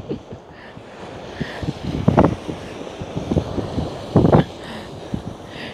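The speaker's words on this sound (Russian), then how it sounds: "Море бушует." A rough, stormy sea in the bay at Vladivostok, with strong wind buffeting the microphone in uneven gusts over a low rumble of surf as rain begins, with no one speaking.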